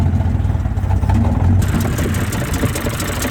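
A BMW E90 engine idles roughly close by, a low, uneven rumble with a rougher, brighter tone partway through and no voices over it.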